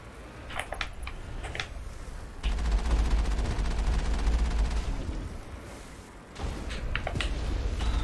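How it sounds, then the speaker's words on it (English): A vehicle's cannon fires in the video game Mass Effect with sharp blasts, then a long stretch of dense, rumbling rapid fire and heavy low booms. Another burst of shots follows near the end. "you can actually kill the Geth through the walls with the cannon"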